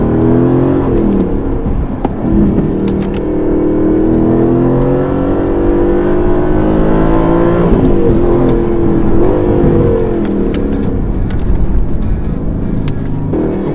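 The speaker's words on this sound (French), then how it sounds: "me voilà au volant de la Vantage AMR" An Aston Martin Vantage AMR with a manual dogleg gearbox drives along a Spanish road, its engine droning loud and close, revving up and down through gear changes with a brief dip and rise midway, no talk.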